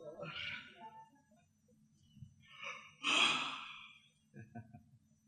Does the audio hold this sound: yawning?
yes